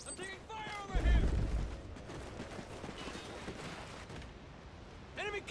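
Gunfire and battle noise in Call of Duty Ghosts, a heavy burst of shots with a low boom early on, then scattered firing and clatter under game voice chatter and radio calls.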